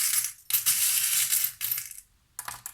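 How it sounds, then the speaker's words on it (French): Three metal charms drop onto a table one after another, each a bright jingling clatter that quickly settles, close and clear with no voices. "Je vais rajouter 3 breloques."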